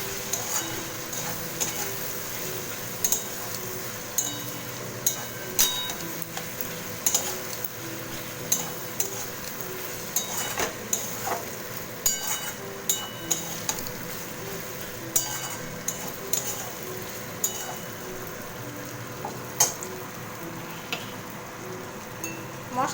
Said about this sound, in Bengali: আবার ভালো করে কষিয়ে নিচ্ছি।